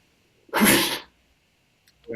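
One loud, close sneeze bursting out sharply, followed by quiet and the start of a voice at the very end.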